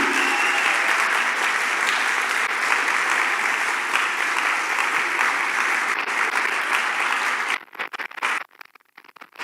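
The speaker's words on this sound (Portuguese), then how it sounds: "Pode aplaudir, gente, milagre." Church congregation at a midweek prophetic service applauding, a loud, dense wash of clapping that holds steady for several seconds, then thins into scattered, uneven claps and breaks off.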